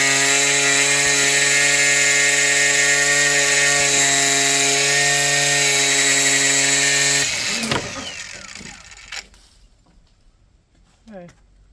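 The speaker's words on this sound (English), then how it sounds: "bring me that grinder" An angle grinder cutting through a metal backyard zipline, a loud steady high whine for about seven seconds that then drops off, leaving quiet clanks and movement.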